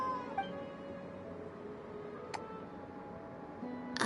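A cat in the Genshin Impact game meows softly a couple of times over a quiet ambient background with light ticking, followed by a brief louder sound at the end.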